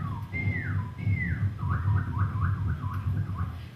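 A man whistles an imitation of a northern cardinal call: two long downward-slurred whistles, then a quick series of repeated rising-falling notes. The whistling is close and clear over a low background hum from a hall or audience.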